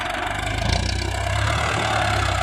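Farm tractor plowing a field, a steady low diesel engine drone with a slight rise in effort midway, continuous and moderately close with no talking.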